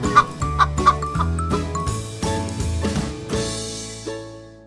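A chicken clucks in a series of short, bright calls set over a bouncy tonal music track for toddlers. The clucks repeat in quick bursts near the start and recur as the melody steps along.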